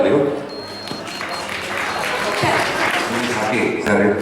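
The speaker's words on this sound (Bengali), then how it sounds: "মহাশয়কে জোরে হাততালি হোক, জোরে হাততালি হোক।" Audience applause at an art school event, a steady broadband patter of clapping hands running throughout beneath loud talk over a microphone.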